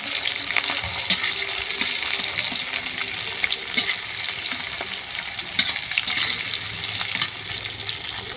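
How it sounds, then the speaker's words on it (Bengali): Green chillies fry in a pan for egg chow mein, a continuous close sizzle with frequent sharp crackles and light stirring, and no one speaking. "আর দিয়ে দেবো কাঁচা লঙ্কা এবার এটাকে ভালো করে ভেজে নেব"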